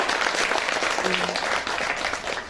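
Steady applause from a breakfast lecture audience in a hotel ballroom, a dense, even wash of many hands clapping throughout, with a faint voice briefly underneath.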